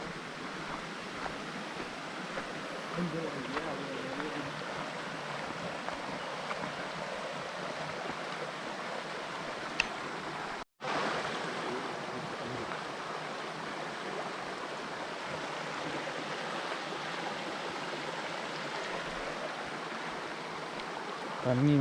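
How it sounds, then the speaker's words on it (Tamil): Water flows steadily in a small stream at Anguthi Sunai falls, low flow, a continuous rushing wash with a brief dropout midway, otherwise unbroken and moderately quiet. "கொஞ்சமாக தான் போகுது தண்ணி."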